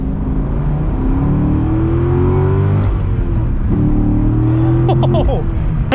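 A 2008 C6 Corvette Z06 accelerates, its engine note rising in steady stepped pulls with a deep rumble heard from inside the car, and a brief sharper sound at the end.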